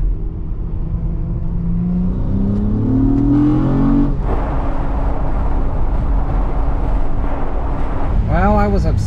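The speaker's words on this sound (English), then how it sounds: "I have to floor it to get on the freeway" A Honda Accord accelerating hard onto a freeway, heard from inside as a loud, steady engine drone whose pitch climbs, drops at a gear change and climbs again, under continuous road roar.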